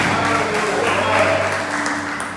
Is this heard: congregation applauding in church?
yes